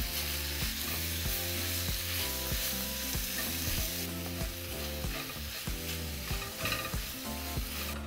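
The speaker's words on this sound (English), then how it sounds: "we're just going to break down our meat and allow it to cook for about 3 minutes" Ground beef seasoned with onion powder being broken up and browned in a pan for picadillo, with a continuous sizzle and occasional scraping under steady background music.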